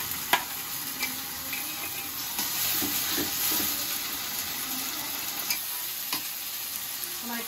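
Ginger garlic paste sizzling and frying in a pan, stirred with steady scraping clicks under a continuous hiss, close and fairly quiet, cooked while preparing a duck curry.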